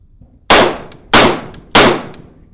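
Three loud, sharp rifle shots from a ZPAP AK-47 fitted with a harsh muzzle device, evenly spaced with ringing decays, fired outdoors with no talking.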